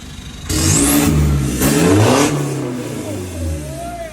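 A remapped car engine on a stock motor in a 2017 four-door, revved hard twice up to the rev limiter, each loud close rise ending sharply, with a person speaking briefly afterward.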